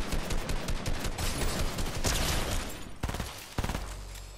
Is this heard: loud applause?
no